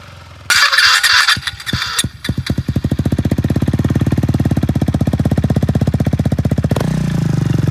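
A KTM Duke 390 motorcycle engine with its muffler removed starts up loudly, catches after a few uneven bursts, then settles into a fast, even, throbbing idle close by before cutting out near the end.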